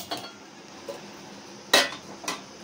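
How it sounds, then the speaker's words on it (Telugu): A large metal cooking pot set down on a stove for Hyderabadi bagara rice, giving a few short clanks and one sharp metallic knock, close and fairly quiet. "ఇప్పుడు ముందుగా స్టవ్ వెలిగించుకొని స్టవ్ మీద పెద్ద గిన్నె పెట్టుకోవాలి"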